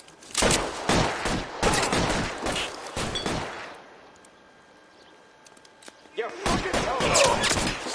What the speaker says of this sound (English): Oh shit, he's shooting me.